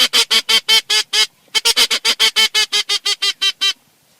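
Rapid series of about twenty loud, nasal squealing notes blown on a wood duck call, in two bursts separated by a short pause, close and without talk.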